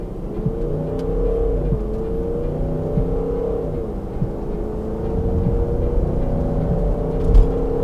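A Range Rover L322 with the 4.4 TDV8 diesel engine pulls hard under acceleration, a steady, loud drone that rises in pitch with one gear change midway, heard from inside the car without talking.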